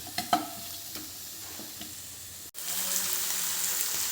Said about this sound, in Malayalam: ഇതിലേക്ക് തക്കാളി ഇട്ട് വഴറ്റി